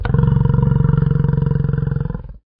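Deep, loud bellowing grunt from a yak, one sustained pulsing call lasting about two seconds, close and alone with no talk.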